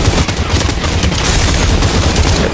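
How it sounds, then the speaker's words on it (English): Sustained loud gunfire in the VR battle royale Population: One, a dense continuous rattle of shots close up for the whole stretch with no pauses and no talk. "Got shooting up on the roof on my mark."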